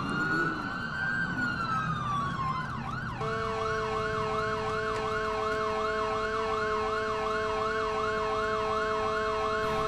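A police car siren in a video game wails with rapid repeating yelp cycles, loud and close, switching pattern partway and then holding a steady rhythmic warble over faint engine hum.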